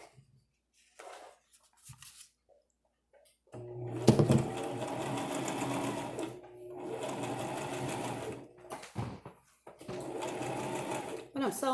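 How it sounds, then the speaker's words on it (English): A sewing machine stitches a miniature pillow in bursts, a close, steady mechanical whirr that starts and stops several times, with gaps between runs. "I want to sew in this direction"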